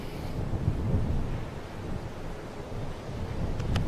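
Gusty wind buffeting an outdoor microphone at a Brisbane press briefing, a steady low rumbling roar lasting a few seconds with no speech.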